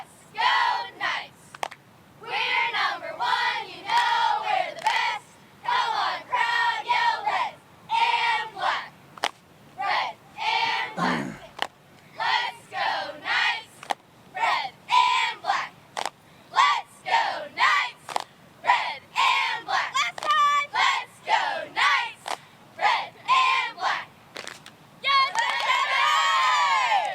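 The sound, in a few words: high school football crowd cheering and chanting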